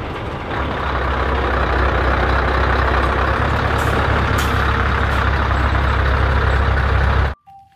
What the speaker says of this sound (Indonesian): Dan yang terakhir, mobil truk kontainer panjang.